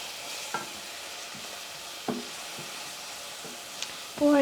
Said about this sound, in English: And you give us a good stir.